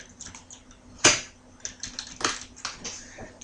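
Someone types on a computer keyboard, close and clicky, giving a loose run of key taps with one louder press near the start and a few more firm strokes later.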